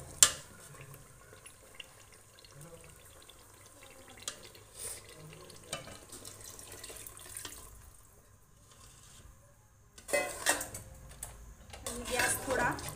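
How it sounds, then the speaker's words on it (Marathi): Spiced water is poured into simmering chicken dum biryani gravy. A splashy, broadband pour rises near the end after a quieter stretch of kitchen background. "मसाल्याचं पाणी आता त्यात घालून घेऊया."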